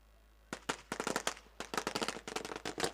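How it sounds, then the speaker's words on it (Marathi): Firecrackers burst at an outdoor cricket semi-final, a rapid crackling string of sharp pops in uneven clusters starting after a short quiet moment, loud and close with no talking. "फटाक्यांचे आवाज आपण पाहतोय"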